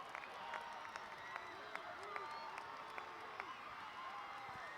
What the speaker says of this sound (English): And that brings the crowd to their feet